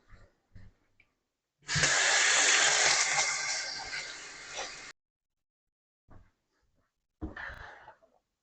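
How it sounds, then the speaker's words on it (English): A kitchen tap runs steadily for about three seconds as hands are washed at the sink during a chocolate cake bake, the full gush trailing off before stopping, with brief clunks and handling noises before and after. "Wash my hands."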